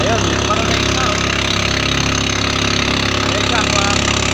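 A fishing boat's engine drones steadily out at sea in the rain, a loud continuous mechanical hum with no breaks. The engine runs alone for the whole stretch.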